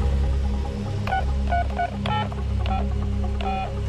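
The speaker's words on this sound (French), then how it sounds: "Il part retrouver Lucien à son domicile et sonne à l'interphone." Intercom button in a film pressed repeatedly, giving a string of short electronic beeps in an uneven coded rhythm over a steady low hum.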